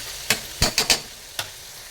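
Pancit miki bihon noodles are stirred and tossed in a pan to toast them, giving a few quick scraping clatters in an irregular rhythm over a faint sizzle.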